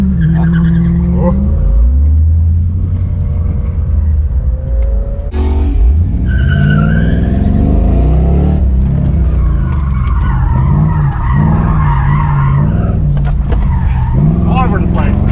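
A Pontiac G8 GT racing on a track with its tires skidding and squealing in long sliding wails over a loud engine drone, recorded from inside the car, with people talking.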